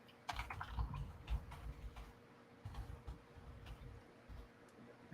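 Computer keyboard typing in a clear run of irregular key clicks and taps, fairly close, with a low background rumble and no talk.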